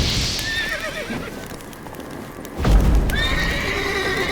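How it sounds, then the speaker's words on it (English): Roach, the horse in the Witcher 3 video game, neighs loudly after being set on fire; two strong whinnies ring out close together with a burst of crackling game noise between them, and nobody speaks. "it turns out I was supposed to blow the door in, not set fire to my horse"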